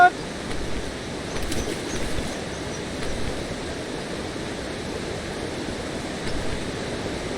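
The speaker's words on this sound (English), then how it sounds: "Oh, the rapids!" River rapids in the video game Eastshade rush as a soft, continuous wash of churning water, moderately close, with a speaking voice over it.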